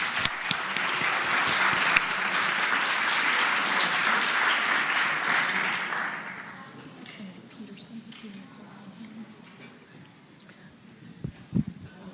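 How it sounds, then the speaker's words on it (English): Applause fills the Virginia Senate chamber for visitors, steady and dense for about six seconds before fading into a quieter room murmur with a couple of soft thumps near the end. "Let's give them a round of applause, please."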